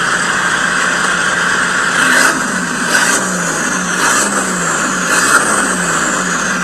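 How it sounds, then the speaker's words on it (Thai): A 2008 Isuzu 2.5 diesel pickup engine with a straight-through exhaust revs in a few short bursts over a steady idling rumble, loud and close, with no voices. "ฟังเสียงท่อกันหน่อยครับ"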